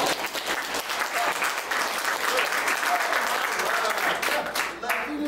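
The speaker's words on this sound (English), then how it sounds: "Give Massachusetts a little applause." Sustained audience applause at a staged Constitutional Convention event, a dense, steady wash of clapping filling the full clip at a fairly loud level, with a few faint voices mixed in near the end.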